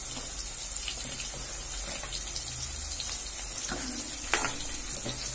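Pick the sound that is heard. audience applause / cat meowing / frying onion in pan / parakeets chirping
frying onion in pan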